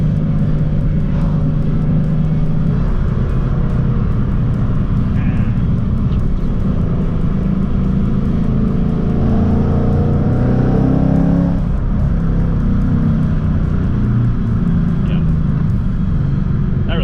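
Steady, loud engine drone from a car driving along with a shredded pilot bearing, a rough mechanical whir underneath that holds throughout without a break.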